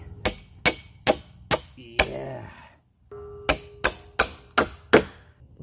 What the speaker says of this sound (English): a lot easier with the hammer